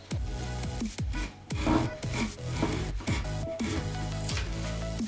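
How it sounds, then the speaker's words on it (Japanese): A flush-cut handsaw with no tooth set cuts through wood in quick, steady back-and-forth strokes, a rasping rhythm up close with no talking. "このアサリのないノコギリ、こちらで切ります。"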